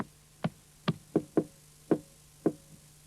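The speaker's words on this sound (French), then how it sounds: "Il frappa." Knuckles rap on a door seven times in an uneven pattern, each knock crisp and hollow in a quiet room.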